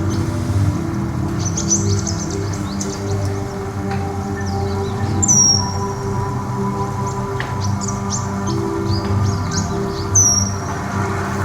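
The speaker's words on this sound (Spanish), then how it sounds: "Un petirrojo derrama toda su canción sobre el acontecimiento" A European robin sings repeated bright warbling phrases over a steady low rumble, its notes clear and fairly close, with no talk.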